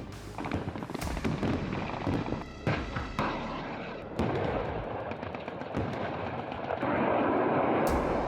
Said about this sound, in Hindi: पोलैंड की धरती पर तोप गरज रही है।